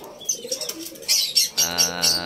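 Racing pigeons back home after a sprint race in Rosario, La Union, cooing softly and close, with a few chirps and low throaty coos in short bursts.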